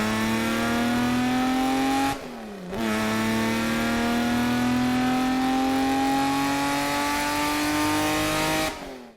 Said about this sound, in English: This is a 12-cylinder car. Here's what it sounds like.